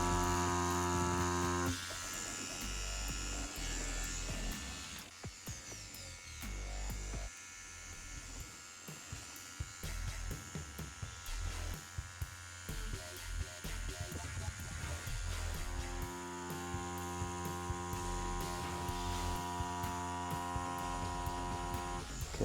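A tattoo machine with a needle cartridge runs at 88 hertz, a steady close electric buzz and hum that drops and wavers in the middle as it is worked, then steadies again, no talking.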